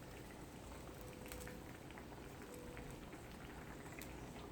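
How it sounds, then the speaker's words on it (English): Pepper, onion and oil sauce cooking down in a covered saucepan over the highest heat, giving a steady, dense bubbling and sizzling hiss that runs unbroken throughout with no voices. "I'm going to cover my saucepan. I'm going to increase the fire to the highest and let it just cook down."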